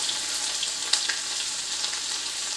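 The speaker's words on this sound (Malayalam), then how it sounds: "കടുക് പൊട്ടി കഴിയുന്നുണ്ട്. മസാലകൾ ആദ്യം ഇഞ്ചി, വെളുത്തുള്ളി." Chopped ginger and garlic fry in hot oil right after mustard seeds have spluttered, for a Kerala-style fish curry with ground fresh coconut, giving a close, steady sizzle with faint crackles and one sharper pop.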